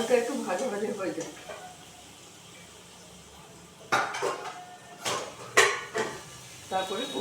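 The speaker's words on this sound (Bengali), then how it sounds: "এই যে আলুগুলো আমার ভাজা হয়ে গেছে" Potatoes seasoned with salt and turmeric fry in a pan, a soft sizzle running beneath sharp, intermittent scrapes and clatters of a utensil stirring against the metal, loudest in bursts toward the end.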